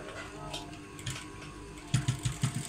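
A sewing machine stitching a plain blouse's front and back pieces gives faint mechanical hum and ticking, then a short burst of five quick stitching thumps near the end.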